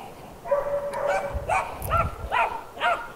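A large dog, around 140 pounds full grown, at an animal control shelter gives a series of about five barks and yips, close and fairly loud, with no one talking.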